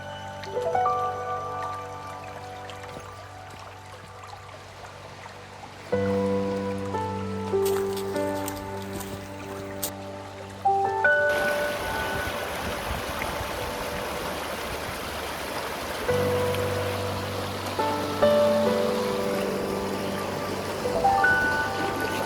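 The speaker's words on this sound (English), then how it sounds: "Ooh, water, you can hear it." Flowing water makes a steady, hissing rush that grows fuller and louder midway through, with sustained tonal sounds underneath and no talking.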